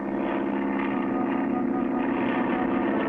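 A cartoon propeller plane hums with a steady, even drone as it takes off, holding the same level throughout with no voices.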